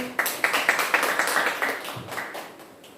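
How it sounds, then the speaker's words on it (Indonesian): Students in a maths class clap together in a rhythmic, evenly spaced pattern of about a dozen sharp claps that trail off and fade near the end. "tepuk tangan dulu dong"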